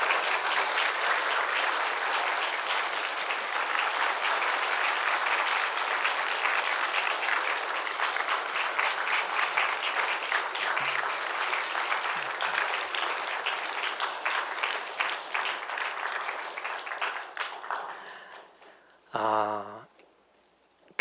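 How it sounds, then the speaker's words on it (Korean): A church congregation at a Korean Sunday worship service claps together in sustained, dense applause that holds steady before fading out, with a short voice at the very end. "여러분 박수로 축복하도록 하겠습니다."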